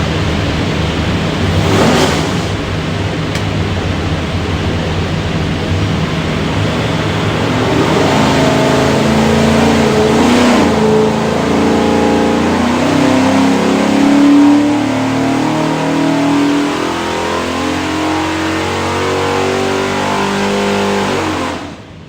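A 408ci small block Ford V8 with an Edelbrock manifold and carburetor revs on a dyno in a test cell, the loud engine roar climbing steadily in pitch and holding near full load for around twenty seconds before cutting off.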